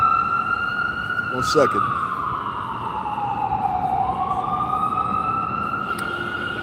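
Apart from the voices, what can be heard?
ambulance siren passing by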